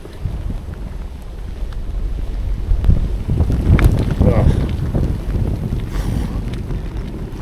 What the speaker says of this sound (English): Windy today as well.